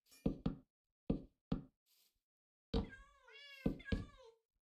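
A cat meows several times in short, fairly close calls, ending in a longer drawn-out meow; several sharp knocks come before the first meow, and there are brief quiet pauses between sounds.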